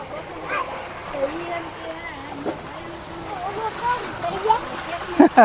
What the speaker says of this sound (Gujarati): આપણે ટાબરિયા પાણી ટાંકો ભરે ને એની વાઈટ જોવે છે